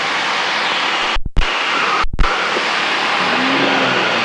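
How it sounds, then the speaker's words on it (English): Extra aerobatic plane's piston engine cranking over at altitude: two sharp dropouts and thumps break a steady loud roar of rushing air and engine noise, then a low tone rises near the end as it catches. "Waiting for the engine to start."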